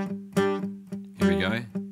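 A guitar plays a short, funky riff with muted downstrokes and accented notes, heard as close, clipped plucked strums in a syncopated rhythm.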